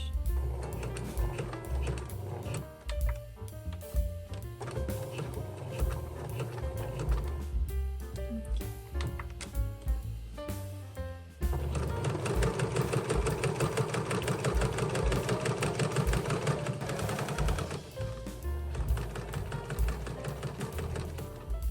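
A domestic sewing machine runs a straight stitch on a zippered make-up pouch, with short back-stitching bursts: steady mechanical whirring in runs, briefly pausing, then a longer continuous loud stretch near the end.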